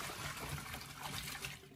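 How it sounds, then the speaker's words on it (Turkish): Water pours and trickles steadily as starchy soaking water is drained off raw cut potato fries, a continuous close splashing flow with no voices. "Şimdi bunun suyunu süzüyorum ve temiz sudan geçireceğim."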